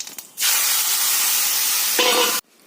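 Small washed fish hit hot oil in a pan with a sudden loud hiss that rushes up after a brief clatter, roars steadily for about two seconds, then cuts off abruptly.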